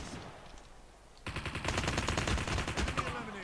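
Rapid automatic gunfire in a Call of Duty match erupts after a quieter stretch, dense bursts of shots continuing loud and close to the end.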